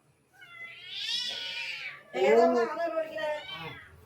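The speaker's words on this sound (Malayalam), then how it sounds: "നമ്മടെ പൂച്ച" A cat meows twice in close succession, a drawn-out rising-falling cry followed by a louder, more strained yowl, close and clear.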